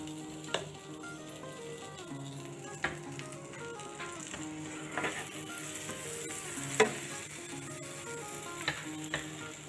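Breadsticks fry in butter in a pan with a steady close sizzle, occasional sharp pops and clicks, and a faint tonal hum underneath.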